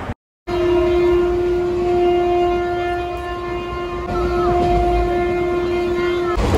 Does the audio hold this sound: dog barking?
no